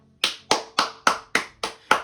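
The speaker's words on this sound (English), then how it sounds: "Big round of applause" Seven slow, evenly spaced hand claps, crisp and close, each sharp strike decaying quickly before the next, with no voices.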